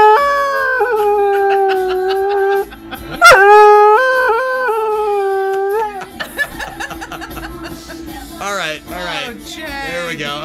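A dog howls along to a song playing loudly, with long sustained wavering howls that rise and fall over the music, then a shift to busier sung passages with people laughing and chatting near the end.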